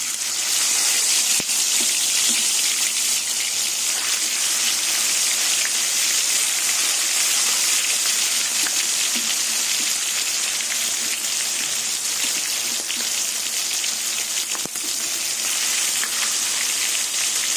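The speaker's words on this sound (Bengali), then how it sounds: "এবার মাছগুলো তেলে ভেজে নেবে" Katla fish frying in hot oil in a wok over a gas flame, a steady loud hiss of crackling oil with scattered pops throughout, no voices.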